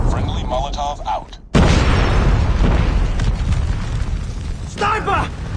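A Molotov cocktail bursting in Call of Duty Mobile: a sudden loud, close whoosh-boom that spreads into crackling fire, between clipped game voice callouts.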